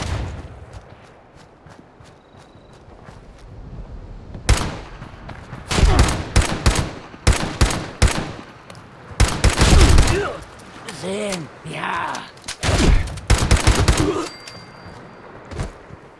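Gunfire in the video game Fallout 76, with loud bursts of rapid shots clustered in the middle of the clip and a few single reports around them, over a low game background.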